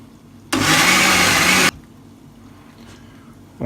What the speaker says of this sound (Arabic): ورح نخلطهم على الخلاط.